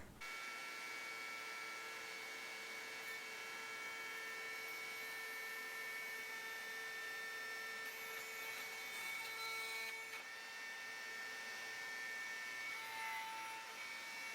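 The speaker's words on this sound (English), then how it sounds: "I've got this other router table jig set up that lets me maneuver the workpiece to cut the" A router on a router table with a jig cuts horizontal slits into solid wood for a wooden chain, giving a steady, loud, high motor whine with grinding cutting noise and no talking.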